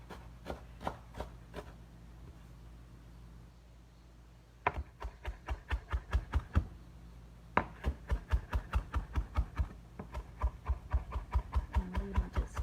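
A knife minces fresh cilantro on a cutting board in quick, steady bursts of crisp chops, each run of rapid taps close and clear, separated by brief pauses.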